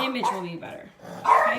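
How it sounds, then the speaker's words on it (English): A dog gives a couple of sharp barks close by, mixed in with a person talking. "sorry about my dog barking"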